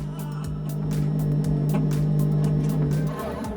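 Rally car passing a stricken Ford at Monte Carlo, a steady engine drone with gear-shift breaks and rising and falling pitch, close and loud throughout.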